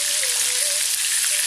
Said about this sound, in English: We have to fry this.